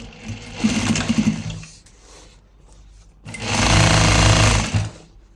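A sewing machine stitches a folded hem in two loud bursts of rapid mechanical whirring, separated by a quieter pause with faint handling sounds.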